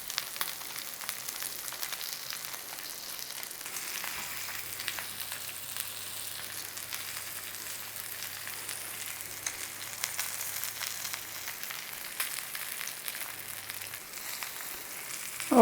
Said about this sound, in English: We want to cook out the fat from this.